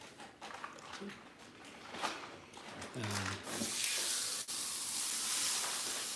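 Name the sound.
steak frying for steak night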